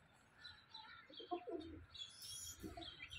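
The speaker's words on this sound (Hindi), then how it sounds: "और पिजन्स तकरीबन हमारे सारे ही नीचे उतर आए हैं।" Pigeons cooing low and soft among several birds settled on the ground near a chicken coop, with brief higher chirps and tweets mixed in, rising and falling over steady background noise.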